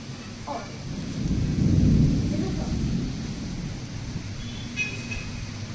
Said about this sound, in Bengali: অনেক দিন পর ঝড় দিচ্ছে আর বৃষ্টি হচ্ছে